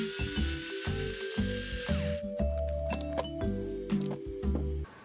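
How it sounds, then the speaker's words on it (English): A small cordless driver loosens the screw holding the shock to the shock tower on an Element Sendero SE RC crawler, giving short, close whirring bursts separated by brief pauses. "Loosen the screw holding the shock to the shock tower."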